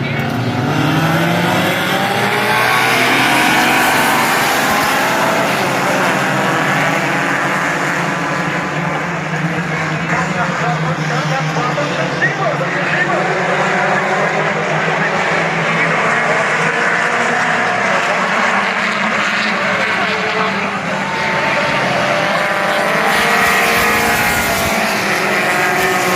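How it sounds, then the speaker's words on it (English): Race cars at Langley Speedway in Hampton, Virginia, roar together as the field takes the green flag, a loud sustained engine drone filling the whole stretch while a commentator talks over it. "As our Marley Financial Q cars getting ready to go green here."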